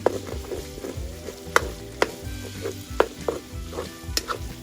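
Pork blood sizzles and simmers in a pan for dinuguan stew, a steady frying hiss broken by regular clinks and scrapes of a stirring utensil against the pan.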